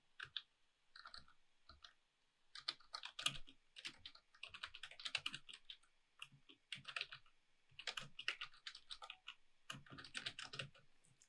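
Bursts of typing on a computer keyboard while entering text into a shape in e-learning authoring software, irregular clusters of close key clicks with short pauses between them and no talking.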